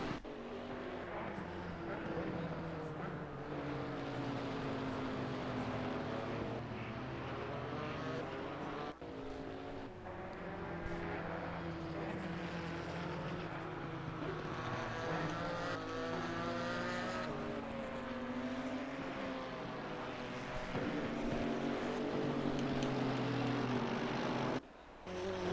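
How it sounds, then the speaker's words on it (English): Two Porsche GT4 race cars lap the wet Brands Hatch circuit, engines droning and shifting pitch continuously as they rise and fall through the gears, heard at a distance, steady and fairly faint. "Two Porsches together out on track."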